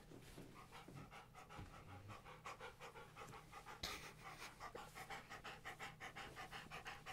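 Close, rapid dog panting in a steady rhythm of quick breaths, fairly quiet, with no talking.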